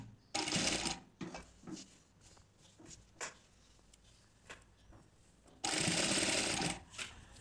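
A sewing machine stitches the folded hem of a cotton nightie, two loud, close bursts of rapid whirring at the start and near the end, separated by quieter handling taps and rustles.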